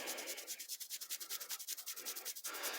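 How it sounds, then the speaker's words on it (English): Metal is buffed by hand with polishing compound, quick rhythmic back-and-forth rubbing strokes, close and fairly soft, repeating evenly for a few seconds with no voices. "let's do a bit of scrubbing here, a bit of rubbing and buffing and compounding and making them shiny"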